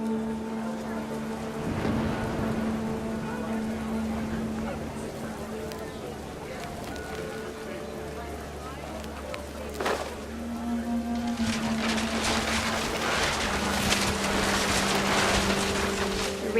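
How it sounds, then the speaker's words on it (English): Heavy rain in the video game What Remains of Edith Finch, falling on a crudely made tent and hissing softly under steady low tones, then pattering more densely and loudly near the end. "The rain came down in buckets then"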